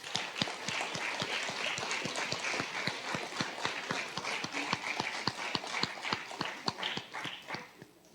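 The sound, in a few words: audience applause at an orchestra concert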